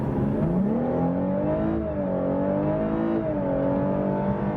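A Lexus LC 500h hybrid coupe driving on a city street, its engine droning steadily with rising and falling pitch as it accelerates and shifts, loud and close from inside the car, with no talking.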